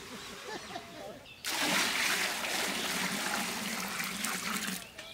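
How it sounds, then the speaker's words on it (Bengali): Water poured into a pot for quail egg biryani, a steady rushing splash starting abruptly after a quiet moment and running loud and close to the end, with faint voices underneath. "পানিটা গরম করতো, পানিটা দিয়ে দিলাম।"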